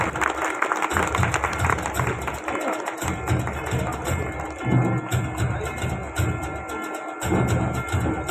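Audience clapping at a village social service association's 75th anniversary ceremony, a lively sustained round of applause from a hall crowd, steady and fairly close with a few faint voices mixed in.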